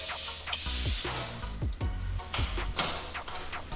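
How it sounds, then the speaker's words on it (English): Aerosol lubricant sprayed into a garage door track: a continuous close hissing spray with short bursts and brief pauses, with faint rattling and knocking underneath. "And you can spray some in the track too as well."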